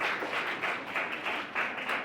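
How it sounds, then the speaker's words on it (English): Audience applause for a regional telecom regulator's office at an interview event in India, steady dense clapping from a crowd throughout the short stretch, fairly close with gentle swells, no talk over it. "I would ask all of you to give a round of applause for TRAI"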